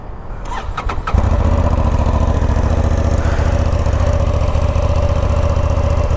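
A Honda Transalp XL 750 motorcycle starts after a few clicks, then settles into a loud, steady, close-up idle with a deep throbbing exhaust note that runs on unbroken.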